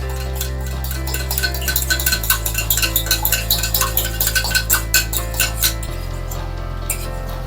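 A utensil stirs sauce in a pan for Georgian chakhokhbili chicken stew, with a run of quick clinks and scrapes against the metal over a steady hum, close and fairly loud.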